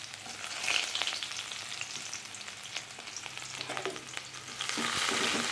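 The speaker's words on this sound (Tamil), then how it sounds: "வெங்காயம் கொஞ்சம் வதங்கட்டும்" Chopped onions sautéing in oil with cumin for a mixed vegetable poriyal, a steady close sizzle with intermittent stirring scrapes, swelling louder toward the end.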